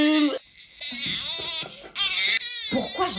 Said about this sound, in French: j'entends des cris de bébé